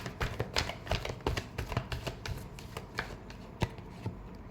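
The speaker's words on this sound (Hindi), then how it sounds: "last shuffle" Tarot cards are shuffled close by in a steady run of soft, quick taps and papery slaps, fading to a few sparser flicks near the end.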